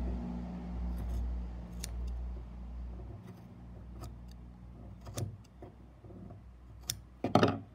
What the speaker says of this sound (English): You are just gonna snip off the edges,